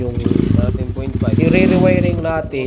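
A Rusi Sigma 250 motorcycle engine idling nearby after a repair, its steady low putter running throughout the short stretch, with someone talking over it.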